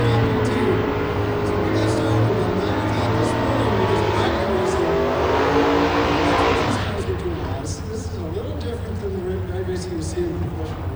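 A drag racing car accelerates at a bracket racing event in the US131 Northern Nationals, a loud roaring engine run with rising pitch that fades out near the end, under a commentator's talk.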